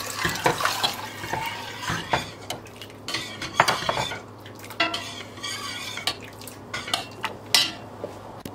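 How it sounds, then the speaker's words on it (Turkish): Soup is stirred in a pot, with repeated metallic clinks and scrapes of utensils against the pot in an irregular rhythm, close and fairly loud, over a faint background hum and a hint of running water. "Ilık bir kıvama gelince tencereye yavaşça ilave ederek karıştıralım."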